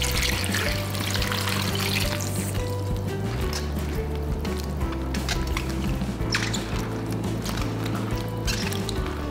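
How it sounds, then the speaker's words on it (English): Steady water pouring into a bowl of salted eggplant, a continuous splashing stream with a low rumble beneath, no voices. "And pour enough water to submerge all your eggplant."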